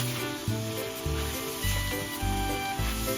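Soy sauce poured along the edge of a hot wok with duck for a duck and taro stew, giving a soft, continuous sizzle with stirring scrapes, close and fairly quiet.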